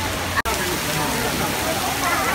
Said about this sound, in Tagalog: Oh, malakas na malakas na yung ulan.